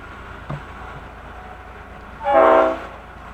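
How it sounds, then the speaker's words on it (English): A passenger train rumbles steadily nearby, with a brief clank early on and a loud horn blast sounding for about half a second later. "Big train coming."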